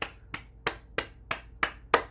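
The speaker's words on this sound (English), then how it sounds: "Now we're going to clap the hands, cup the inside of the elbows, underarms, and the window of the lungs." Hands cupped and clapped against the inside of the elbows, the underarms and the chest during a morning bouncing and centered-awareness exercise routine: seven sharp, evenly spaced slaps about a third of a second apart, moderately loud, with no voices.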